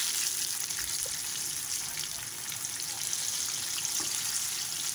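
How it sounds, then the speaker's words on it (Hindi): Eggplants frying in hot oil for Hyderabadi baghare baingan give a steady, dense sizzle and crackle that holds evenly throughout, close and fairly loud with no voices. "अच्छी तरह इनको घुमा घुमा के हमने कर लिया है फ्राई"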